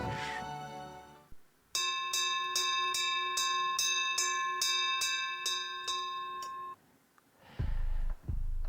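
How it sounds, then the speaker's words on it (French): Emergency alarm bell rings out across a town in rapid, regular repeated strikes lasting several seconds, clear and sustained, followed by a brief pause and low rumbling noise. "une alarme de panique, une alarme d'urgence s'est mise à résonner dans la ville"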